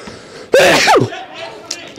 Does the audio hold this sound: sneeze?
yes